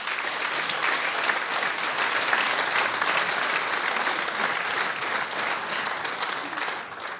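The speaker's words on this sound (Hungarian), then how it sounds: "Tapsoljuk meg őt!" Sustained, loud audience applause at a town-day award ceremony in Hajdúnánás, a dense wash of clapping from a crowd that continues for several seconds before beginning to fade.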